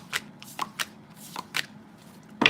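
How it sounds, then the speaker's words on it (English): Tarot cards shuffled by hand during a love reading, producing about six quick, crisp riffling bursts close by at a soft level, with no talking. "They didn't want me to shuffle the cards."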